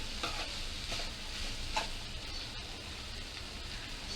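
Ridge gourd sizzles in a pan on the stove as a little water is added, giving a soft, steady hiss and faint crackle with no talking.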